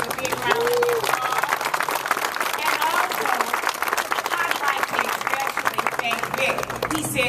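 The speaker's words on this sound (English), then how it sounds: "let's give our mayor, Mitch Landrieu, a big round of applause" Audience applauding the mayor of New Orleans at a school event announcing summer youth recreation and jobs programs, dense steady clapping from a crowd filling the whole stretch with no talk over it.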